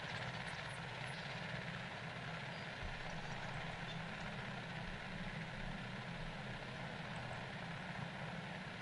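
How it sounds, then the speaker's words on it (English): A helicopter flies in the video game Jurassic World Evolution, its rotor and engine a steady, faint, continuous drone with no voices over it. "That helicopter just spawned out of nowhere."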